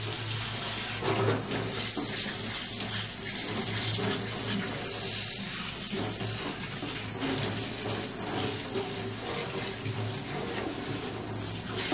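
Running water rinses conditioner off a Yorkshire terrier during a bath at home, with the water at room temperature; a steady, continuous splashing flow from a tap fills the whole stretch without pause.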